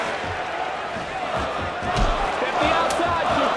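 Arena crowd cheering and chanting in support of Jon Jones during a UFC Undisputed 3 video game fight against Anderson Silva, a loud continuous roar with thuds and surges of excitement and commentary voices over it.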